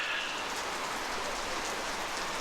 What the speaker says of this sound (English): Didn't quite make it home before the rain.